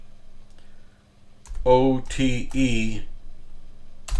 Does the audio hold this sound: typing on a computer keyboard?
yes